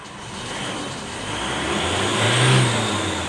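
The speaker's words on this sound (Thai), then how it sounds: "เดี๋ยวเราลองเร่งดูนะ" A 2005–2006 Isuzu D-Max pickup engine, one prone to stalling while driving, revs up steadily under throttle, rising to a louder peak near the end of the burst with no talk over it.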